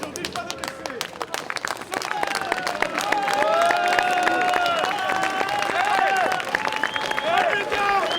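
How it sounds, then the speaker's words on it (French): Crowd applause at a farmers' protest in front of the European Parliament, a dense patter of clapping that swells after the first couple of seconds and holds steady, mixed with shouts and voices. "Allez les gars, on les applaudit."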